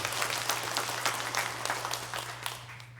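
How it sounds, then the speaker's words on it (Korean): A church congregation claps for its broadcast-room volunteers during a Sunday service, moderately loud scattered applause that tapers off, over a steady low electrical hum. "우리 방송실 우리 봉사자들에게 박수로 또 격려하겠습니다"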